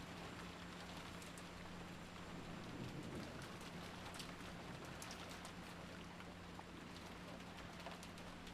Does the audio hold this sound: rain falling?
yes